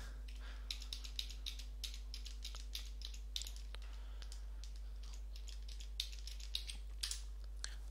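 Quick bursts of key presses on a computer keyboard, light rapid clicks in short runs, quiet against a low electrical hum.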